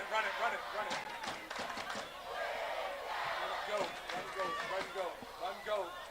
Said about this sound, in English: Crowd chanting Finn Gallup's name.